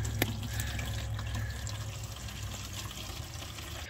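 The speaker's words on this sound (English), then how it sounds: "I'm going to pump a little bit in this gallon jug just so we can see what comes out of it" Fuel is pumped from the gas tank of an old Ford F8000 truck that had sat for years into a gallon jug, making a continuous liquid gush and splash over a constant pump hum, close by.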